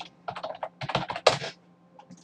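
Quick bursts of keystrokes on a computer keyboard, close and crisp, typing out a short layer name in an image editor in two uneven runs of clicks before falling quiet.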